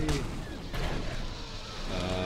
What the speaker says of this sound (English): Alright, Chewie. Hit that shit with your bomb.